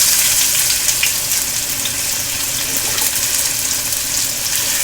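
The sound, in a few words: mustard seeds and cumin frying in hot oil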